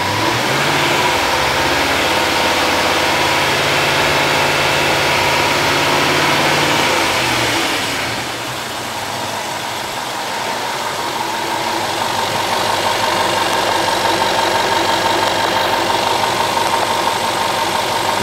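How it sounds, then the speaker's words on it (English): A Land Rover engine revs under load, a loud, steady mechanical roar held at high speed, then easing slightly before climbing again, alone with no voices. "Rev engine with loads on it."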